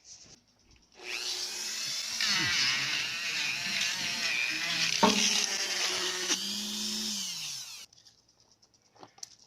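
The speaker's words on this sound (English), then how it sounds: "I have to pull out the Dremel tool because that drill is too big to get in that tight spot" A small Dremel rotary tool whines at high speed for several seconds, pitch wavering as it grinds against metal, then stops abruptly.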